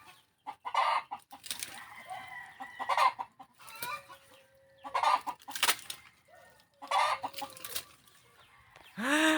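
A small flock of ducks feeding on banana leaves gives off scattered quacks and clucking calls in short bursts, close by, over quiet gaps.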